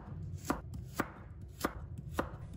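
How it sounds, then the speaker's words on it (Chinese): A kitchen knife slices a carrot into diamond-shaped pieces on a cutting board, four crisp, evenly spaced chops sounding close and clear with no talk. "再给它切成菱形片"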